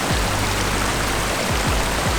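Water running down a hiking trail in the North Cascades, a continuous loud rushing wash of a small stream heard close by, with occasional low thuds, no voices.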